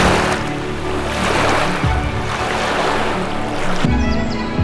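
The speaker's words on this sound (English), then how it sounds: "the sound of the water" Steady wash of water waves rolling in, a broad continuous surf sound with gentle swells, close by and fairly loud, with a low mechanical hum underneath.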